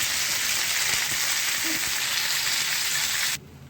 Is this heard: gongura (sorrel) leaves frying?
yes